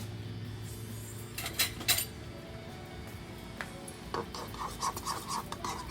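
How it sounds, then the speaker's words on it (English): A spoon scrapes and clinks against a bowl while mayonnaise, sriracha and honey mustard are stirred into a crab cake sauce, with irregular bursts of scraping and tapping over a low steady hum, close and moderately loud. "Let's mix that up."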